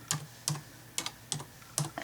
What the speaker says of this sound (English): So I am going to type